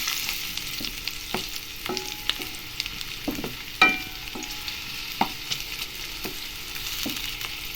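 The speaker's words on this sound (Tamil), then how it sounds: "இப்போ வெங்காயம் கொஞ்சம் கட் பண்ணி போட்டுக்கலாம்." Chopped onions sizzling in a pan as idli batter is prepared, with a steady close fry broken by repeated stirring clicks and scrapes and no talking.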